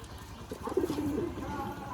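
Young pigeons in a rural loft coo in a short, low throaty burst near the middle, close by, against a busy background murmur.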